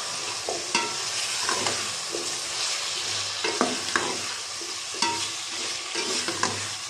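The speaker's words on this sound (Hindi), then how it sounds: "थोड़ी देर इनको फ्राई कर लेंगे" Potatoes for methi aloo salan frying in a pan, a steady close sizzle broken by repeated spoon scrapes and knocks as they are stirred.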